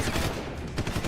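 Rapid gunfire in the video game Deus Ex: Human Revolution, a dense burst of several quick shots in a brief, loud volley.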